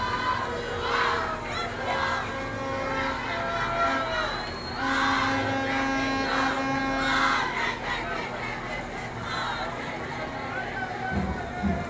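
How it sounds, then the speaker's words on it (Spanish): A parade crowd at a Fiestas Patrias celebration shouts and cheers in loud, rising bursts, with a voice over a loudspeaker running under the noise throughout. "Fuerte aplauso para ella."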